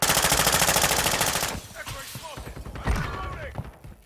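Rapid, sustained automatic gunfire in a shooter video game hammers steadily for about a second and a half, then cuts off, leaving scattered quieter game effects and faint distant shots.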